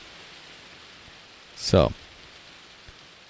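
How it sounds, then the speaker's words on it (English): Rain falls outdoors on a cold night as a steady, soft, even hiss, broken briefly by a single spoken word near the middle. "And it's raining."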